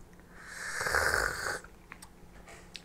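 A single drawn-out slurp of Chinese oolong tea, airy and hissing, swells up close for about a second and a half before a few faint sips and clicks.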